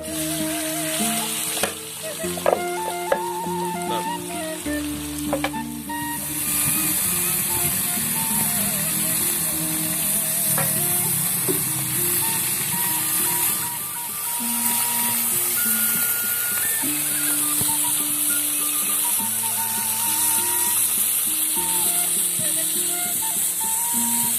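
Hot oil sizzles and crackles steadily throughout as small wader fish fry, with a few clinks early on and musical tones playing underneath.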